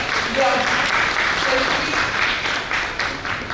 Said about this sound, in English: So we must give them a big applaud all the time.